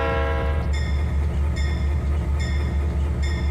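A train in the Trainz TANE game starts up with a steady low engine rumble, while a high repeating tone or chime pulses about every second over it, with no talk.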